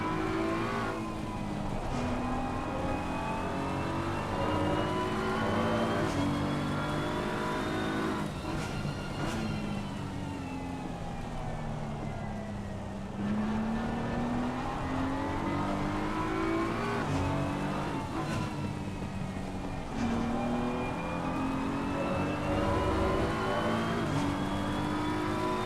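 A race car engine revs hard and holds high RPM in Assetto Corsa Competizione during an SRO esports 24 Hours of Spa race, its pitch climbing and dipping through long pulls, loud and continuous with no gear change to sixth.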